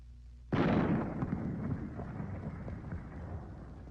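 A single sharp gunshot from a small-caliber bullet aimed at ice, a sudden loud crack followed by a long, slowly fading rumble, close and alone.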